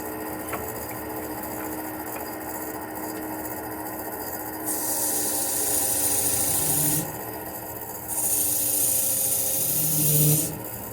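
Drilling holes for spots in a turned black walnut wood mushroom, a high whirring drill cutting in two sustained bursts over a steady background hum of shop machinery.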